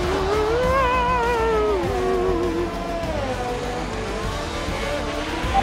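An F1 race car in F1 2021 at the British GP runs at full throttle, its engine whine sweeping up and down in steady pitch through the gears, loud and close, with faint voice traces underneath.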